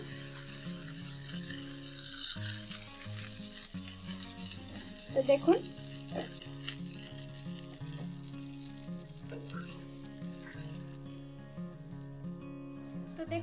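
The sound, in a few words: flatbread breakfast sizzling while frying on a tawa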